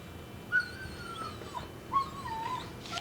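A dog caught in a river flood whimpers in two drawn-out, high tremulous whines, each opening with a sharp yelp, set against steady low background noise.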